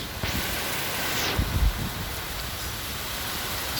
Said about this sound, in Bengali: সেই সাথে বৃষ্টি